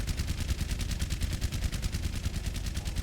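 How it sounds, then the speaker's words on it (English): Soldier's primary-fire rifle in the video game Overwatch fires a rapid, evenly spaced stream of loud gunshots that runs without pause throughout. "You're already taking primary fire damage from the soldier."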